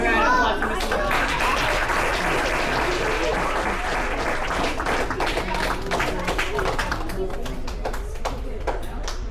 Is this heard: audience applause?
yes